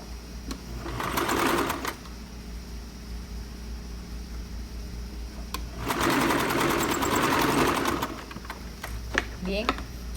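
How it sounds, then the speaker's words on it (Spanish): A sewing machine stitches a shirt collar in two bursts of rapid mechanical whirring, each about a second or two long, separated by a pause with a low room hum and a few faint clicks. "Ahora voy a coser en el otro lado del cuello."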